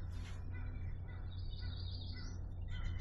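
Wild birds, including a yellow-rumped warbler, call in the distance with faint, thin chirps and a short rising whistle over a constant low outdoor rumble.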